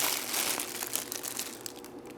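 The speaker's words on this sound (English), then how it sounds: "if you crumple it up, you can also get some pretty cool effects." A colored lighting gel being crumpled by hand gives a steady close crinkling and crackling with irregular sharper crackles, alone and fairly quiet.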